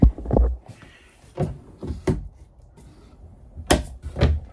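Bathroom drawers or cupboard doors in a travel trailer RV open and close in a series of sharp knocks and thuds, several spaced over a few seconds, close and loud, with faint background noise between.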